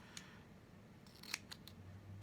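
Scissors snip through duct tape while small pieces are cut for a moon phases garland craft at home. A few quiet, sharp cuts come in a hushed room, with no talk.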